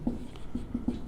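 Hand writing on a board during a class 9 maths lesson on triangles and circles: four short scratchy strokes in about a second, close and fairly clear, with no talking.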